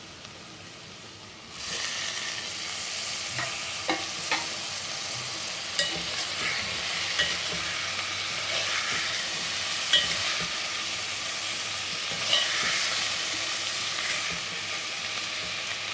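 Chopped tomatoes cook uncovered in an open pan for Sindhi seyal bhaji, a constant close sizzle that swells suddenly as they hit the pan and then crackles on evenly with occasional stirring scrapes.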